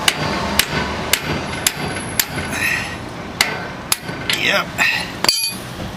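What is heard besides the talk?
hammering to drive out a kingpin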